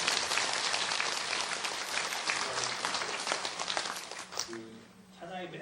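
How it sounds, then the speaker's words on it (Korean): Church congregation clapping during a steward appointment worship service, a dense roaring wash of applause that fades near the end as a voice begins speaking. "박수를 열심히 쳐주시면 좋겠습니다."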